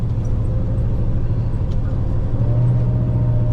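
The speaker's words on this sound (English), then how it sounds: "we'll start working our way back on the gears now." A Scania log truck on an off-highway haul road works down through its gears near a sawmill, heard from inside the cab as a steady low diesel drone that shifts in pitch near the end, without talk.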